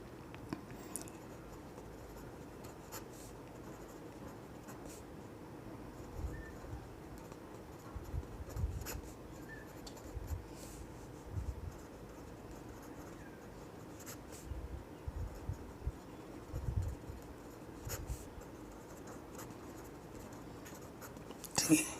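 A pen scratches out a final math answer by hand on paper, faint intermittent strokes in bursts over a quiet room for about twenty seconds.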